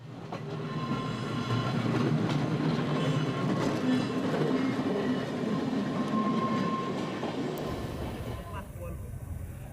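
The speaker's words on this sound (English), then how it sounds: "trams arrive and depart from the south and the north" A Manx Electric Railway tram runs along the Isle of Man coast near Laxey, its steady loud rumble and rail clatter filling the whole stretch before easing off at the end.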